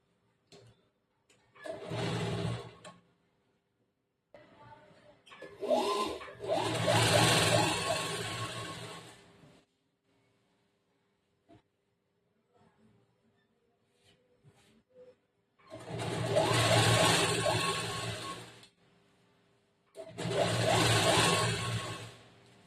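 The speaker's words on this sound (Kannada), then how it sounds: "ಇದ್ರ ಮೇಲ್ಗಡೆ ಇನ್ನೊಂದು ಹೊಲಿಗೆ ಹಾಕ್ಬೇಕು" Blouse fabric is machine-stitched in four separate bursts, each a few seconds of loud, close whirring with near-silent gaps between.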